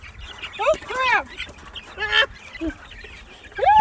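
Chickens clucking and squawking while being caught and handled during a move to a chicken tractor, loud agitated calls in bursts close by, with people talking in between.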